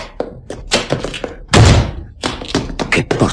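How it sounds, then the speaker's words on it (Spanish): A door slams in a Spanish audiobook drama: one heavy, booming thud lands midway through while a narrator speaks before and after it. "¿Qué portazo ha dado?"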